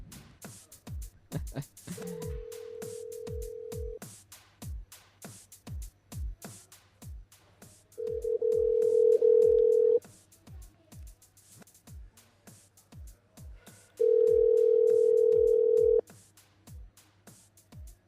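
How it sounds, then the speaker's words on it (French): A landline dial tone sounds in steady bursts between short clicks of a number being dialed, fairly close and alone, the tones stopping and restarting several times. "il compose le numéro du standard"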